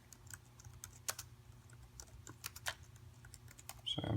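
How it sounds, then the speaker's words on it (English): Irregular one-handed clicking of keys on a computer keyboard, fairly close, with bursts and pauses of uneven typing and no talking. "Sorry, I'm typing with one hand."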